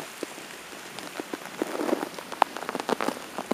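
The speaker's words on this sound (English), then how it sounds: "the rain is now deciding to lit up a little bit" Rain falls at night during a thunderstorm, a faint steady patter of drops on a nearby surface with scattered louder splashes.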